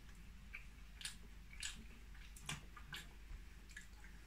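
Someone bites and chews a crunchy caramel Rice Krispie bar, soft crackling crunches and sticky squishes arriving in irregular bursts up close, quiet and without talk.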